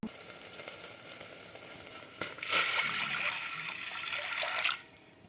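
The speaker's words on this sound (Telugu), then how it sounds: "పచ్చనపప్పు కడిగేసాను రెండు గ్లాసులు వాటర్ వేసుకుందాం" Two glasses of water poured into a cooking pot holding rinsed moong dal, a steady near splashing pour lasting a couple of seconds before stopping, with no talk.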